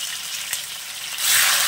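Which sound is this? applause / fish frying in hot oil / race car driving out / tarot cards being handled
fish frying in hot oil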